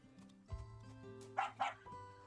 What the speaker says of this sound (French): Le chien a l'air effrayé et gémit